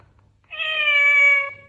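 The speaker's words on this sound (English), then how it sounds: "cat, cat," A single drawn-out cat meow from a children's animal sound book, clear and close, rising and then fading after near silence.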